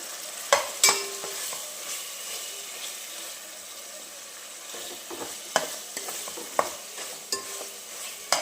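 Onion-tomato masala for egg biryani fries in a pan, a steady soft sizzle broken by sharp scraping clicks of a spoon stirring against the metal, close up and with no talking.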